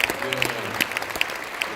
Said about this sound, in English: And I want to clap.